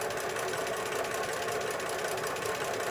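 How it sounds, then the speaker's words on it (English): A sewing machine stitches steadily over the seams of a quilt block, a continuous fast, even mechanical whirr with a fine rapid needle chatter, close and constant. "You want to take your time stitching over these seams."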